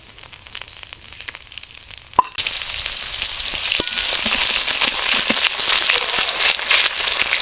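Whole spices, including dried red chillies, bay leaves, cumin, cinnamon bark and black and green cardamom, dropped into hot oil for chicken curry, a few faint clicks, then a sudden loud sizzle that keeps crackling steadily, no talking.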